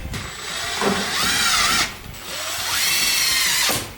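A power drill drives self-tapping screws into a rotted pickup truck bed in two close, loud whirring bursts, each rising in pitch and winding down, with a short pause between them.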